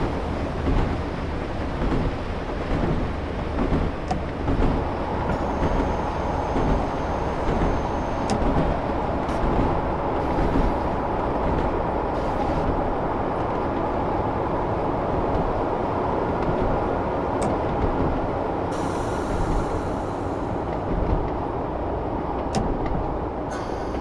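A train rolls steadily along rails in a railway simulation game, departing Port Lafayette toward a junction, with a continuous rumbling of wheels and wagons, brief higher squeals and hisses layered over the steady drone, no voices present.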